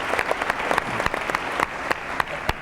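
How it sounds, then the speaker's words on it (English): Scattered clapping from the audience at a 2007 New Hampshire Democratic primary debate, individual claps audible as a brief, moderately loud burst. "I think a round of applause for what you're doing here."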